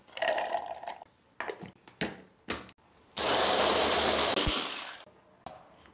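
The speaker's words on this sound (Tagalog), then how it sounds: "paunti-unti lang guys kasi maliit lang yung ating chopper" A small electric food chopper whirs in short bursts while chili peppers and other ingredients are chopped a little at a time, then runs steadily for about two seconds, close and loud.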